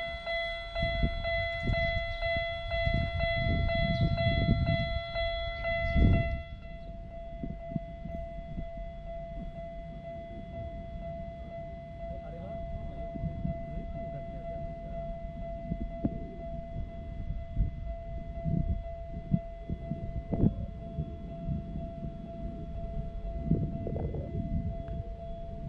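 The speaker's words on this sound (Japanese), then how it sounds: "タイフォンを鳴らし、" A Toyama Chiho Railway limited express sounds its typhon horn at Terada Station: a steady, loud, multi-tone blast for several seconds over heavy rumble, then the train's low rolling noise as it departs.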